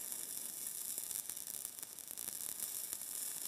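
Steady hissing sizzle with faint crackles and pops from a soldering iron on solder during stained glass work, fairly close, continuous throughout with no voices.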